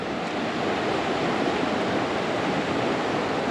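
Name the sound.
river flowing beside hiking trail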